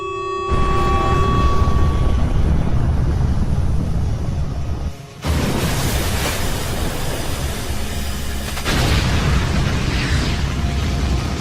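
An anime missile launch effect: a sudden loud roaring blast that holds as a dense rumbling whoosh, breaks briefly, then surges again and keeps thundering to the end, no talk.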